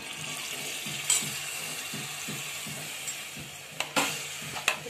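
Chickpeas go into sizzling masala in a pan, heard as a soft, steady sizzle with a few scrapes and clatters of stirring near the end and no voices.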